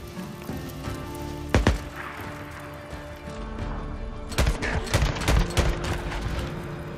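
Gunfire in Days Gone, a few sharp loud shots near the start followed by a cluster of rapid bursts later, all over a steady rain-like background hiss, with no speech.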